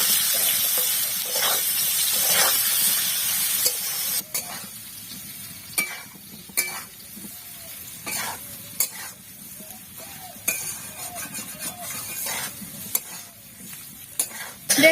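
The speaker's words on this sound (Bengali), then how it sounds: "এবার ভালো করে ভেজে নেব।" Potatoes fry in hot oil with salt and turmeric for a vegetarian Bengali alur dom, a steady loud sizzle broken by repeated scraping stirs of a spatula against the pan.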